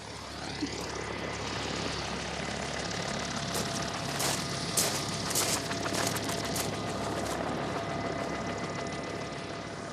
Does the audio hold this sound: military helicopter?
yes